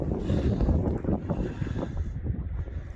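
Wind at a volcano eruption site, blowing smoke south over a hiking trail: a continuous low roaring rumble of gusts buffeting the microphone, loud and close, with no talk.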